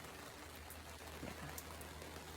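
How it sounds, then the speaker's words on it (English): Rare summer rain in Northern California, a soft, steady patter of drops on a surface with faint scattered ticks, quiet and close, with no voices over it. "It's raining in California. Actual rain."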